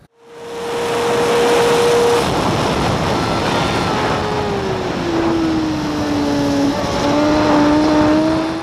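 Onboard a racing motorcycle at Portimão circuit coming off more than 300 km/h, engine note falling through hard braking and three downshifts, loud and continuous with shifting pitch, no talking.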